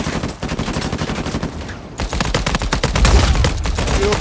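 Rapid automatic gunfire from an Uncharted 4 multiplayer match, loud sustained bursts of shots with a brief pause near the middle before heavier firing resumes.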